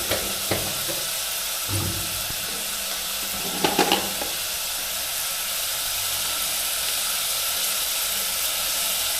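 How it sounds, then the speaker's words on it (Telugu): Dried fish fry in a pan with turmeric, salt and chili for a village-style curry, a continuous sizzle with a few brief clatters of stirring. "ఇవన్నీ బాగా ఫ్రై అయిపోవాలి, గుచ్చొచ్చేసేయాలి."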